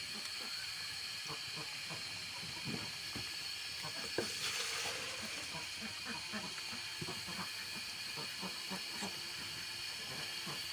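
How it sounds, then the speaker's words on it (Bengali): Fuchka puris frying in hot oil at home, a steady broadband hiss and sizzle with scattered crackles and pops throughout, no voices. "আমার ফুচকাটা ভাজা হয়ে গেছে"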